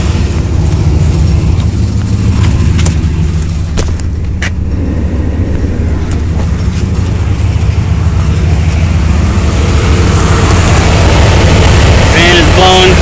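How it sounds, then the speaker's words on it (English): A Dodge Ram pickup truck engine idling, a loud steady low rumble close by with a few clicks and knocks, a rising whine near the end. "Alright, truck is running, AC is off."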